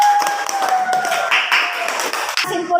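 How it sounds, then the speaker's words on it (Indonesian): Pupils clap together in a classroom, a quick, uneven patter of hands with a tonal voice or whistle-like sound running beneath, fairly close and lasting a few seconds. "Tepuk tangan untuk semuanya"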